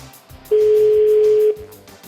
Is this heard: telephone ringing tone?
yes